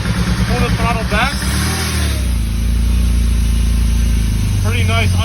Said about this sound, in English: So this is the throttle opening quite a bit.